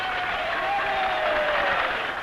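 A large crowd of about 100,000 cheers aviators in a Melbourne street procession, a dense continuous roar of distant voices and applause with a faint whistle-like tone running through it.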